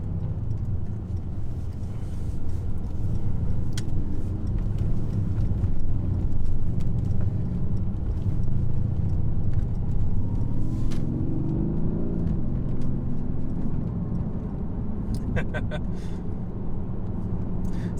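Mercedes C63s AMG driving fast on a secondary road, a steady low engine rumble with a rising tone near the end, heard from inside the car.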